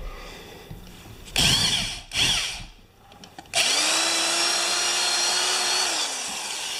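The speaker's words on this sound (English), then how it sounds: "This drill is not variable speed." A non-variable-speed electric drill with a 3/8 bit, used while retrofitting a small compressor, whines loud and close in two short bursts with a brief pause between them, then runs at one steady full-speed pitch for several seconds before winding down.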